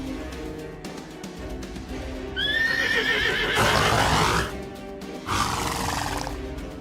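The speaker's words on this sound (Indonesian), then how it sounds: "Suara kuda lagi." A horse neighs loudly inside a house, a high wavering whinny followed by two rough, breathy bursts of snorting and blowing, close and prominent over a quiet room.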